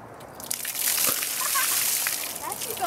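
Warm water from a bucket pours over a young child during an ice bucket challenge, making a continuous close splashing slosh that lasts a couple of seconds.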